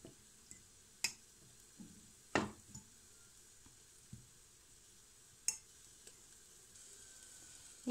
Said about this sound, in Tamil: இப்போ இதில் கொஞ்சம் நெய் சூடானா இதில் வந்து கொஞ்சம் கடுகு 2-3 உளுந்து போட்டிருக்கேன்